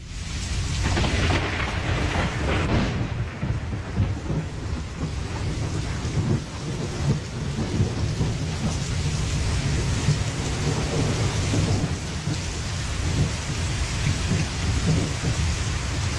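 A heavy downpour roars without a break while deep thunder rumbles underneath, loud and dense throughout with no voices.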